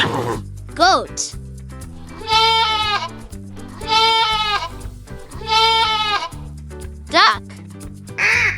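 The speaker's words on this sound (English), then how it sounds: "Goat." A goat bleats three times in long, quavering, wavering cries, loud and close, with shorter rising calls at the start and end, over a light background music bed.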